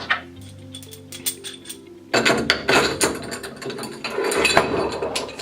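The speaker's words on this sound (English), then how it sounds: "we're going to start by putting the bolt through the hole" A bolt is pushed through the hole of a wheel assembly, giving a run of sharp metallic clicks and ratchet-like rattles, sparse at first and then denser and louder for the second half.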